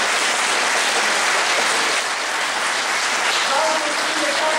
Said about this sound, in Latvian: un mēs visi aplaudējam